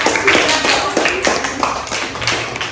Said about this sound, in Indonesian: Oke, tepuk tangan buat Dinda.